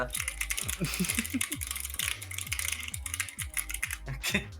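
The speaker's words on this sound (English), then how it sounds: "I kind of forget that my keyboard is audible." A computer keyboard held close to a microphone is typed on rapidly, giving dense irregular clacking keystrokes with sharp individual clicks, loud and near, with no voices over it.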